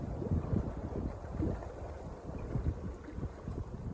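Wind buffets the side of a narrowboat cruising along a canal, a continuous low rushing roar with gusty swells and microphone wind noise, loud and close throughout.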